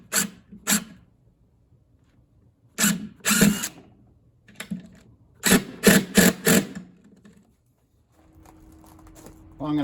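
Screws being driven into a wooden top shelf of an air compressor rack, heard as repeated short bursts of power-tool whirring and ratcheting, loud and close, with gaps between and a faint hum near the end.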